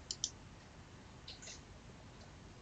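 Computer mouse clicks on a Mac, a couple of crisp, quiet clicks near the start with another faint one later, in an otherwise hushed room.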